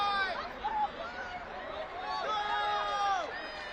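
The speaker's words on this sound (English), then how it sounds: "Crowd are loving it." A rugby crowd at the 2021 NCR men's final four, Penn State against Queens, roars and chatters in a broad, sustained wash while a commentator talks over it.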